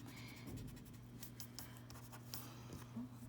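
A sharpened pencil shades on paper in small circles, a faint, close, continuous scratchy rubbing with soft rhythmic strokes and no talking.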